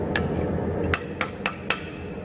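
Sharp metallic hammer blows on a knife blade being forged, four distinct ringing strikes in quick uneven succession over a low background hum.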